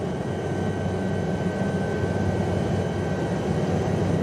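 SA 315B Lama helicopter in X-Plane 12 on approach to land, a steady, dense engine and rotor roar that holds unbroken throughout with no talking.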